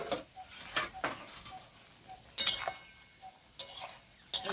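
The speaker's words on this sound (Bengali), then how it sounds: "এখন আমি চাপাটা খুলে দেখে নেব সেদ্ধ হয়েছে কিনা।" A lid comes off a pot of boiled carrots with a few sharp metallic clinks and scrapes, separated by short quiet gaps, close and fairly crisp.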